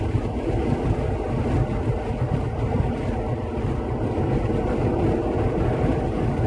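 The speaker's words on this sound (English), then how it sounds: "I was looking at the train" A freight train near Winnemucca, Nevada rumbles past on its tracks, a steady dense low roar with faint rhythmic clatter holding at close range throughout.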